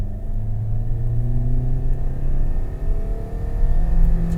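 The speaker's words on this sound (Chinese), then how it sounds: "我们来踩油" A 2023 Toyota Veloz MPV's 1.5-litre engine in Power Mode revs up from inside the cabin, a steady rising drone with climbing tones and no talk.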